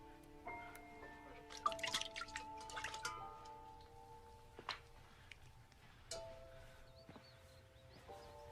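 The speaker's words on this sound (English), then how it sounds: "This is water." Scattered, faint drops of water drip one after another in a quiet dramatic film scene, with soft sustained musical tones in the background and no talking.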